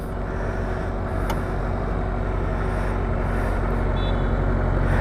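A Yamaha MT-15 motorcycle fitted with a Yoshimura Alpha open-pipe muffler idles with a steady, deep, bassy exhaust drone, loud and close, holding an even rumble throughout with no speech.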